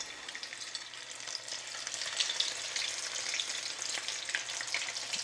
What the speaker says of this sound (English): Oil down in the pan. Let's go in with the fritters.